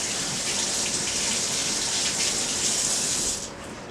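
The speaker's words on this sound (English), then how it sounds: "So I'll just give them a quick rinse." Tap water runs steadily over vinyl-gloved hands being rinsed at a sink, a loud, close, continuous splashing rush that stops abruptly near the end.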